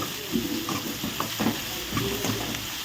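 Onion, green chili, curry leaves, cumin and turmeric fry in oil with a constant close sizzle and several soft stirring scrapes, with no clear speech over the cooking.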